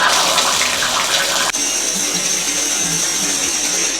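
Shower water runs in a steady loud hiss in a home bathroom, with a short click midway and no voices.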